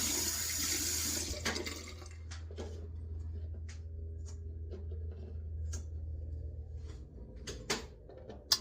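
Tap water running into a sink as a razor is rinsed during a wet shave, a steady close gush with a low hum, followed by scattered small clicks and knocks.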